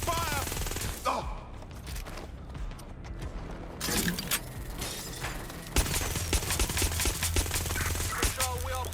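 Video game gunfire in Watch Dogs: Legion, a dense mix of rapid automatic bursts and sharp cracks layered over game music and effects, with loud clusters of shots across the stretch.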